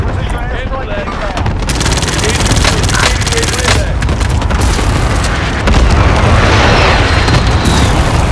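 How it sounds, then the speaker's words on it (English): Video game airstrike on a battlefield: continuous heavy rumbling blasts and rolling explosions mixed with rapid gunfire, loud and dense throughout, with a sharper burst of booms near the end. "friendly position airstrike inbound"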